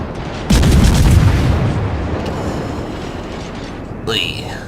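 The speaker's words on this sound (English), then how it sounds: "there goes some high explosive shells and hits SJ on the side" High explosive shells slam into a ship in World of Warships, a heavy booming impact at the start trailing into rumbling battle noise, with a brief whistling effect near the end.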